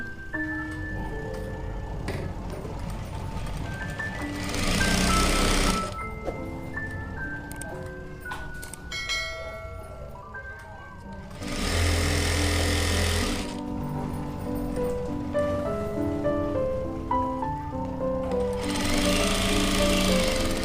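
A sewing machine stitching the crotch seam of palazzo trousers: three loud bursts of rapid mechanical stitching, each a few seconds long, separated by quieter handling and music in the background, with no talk.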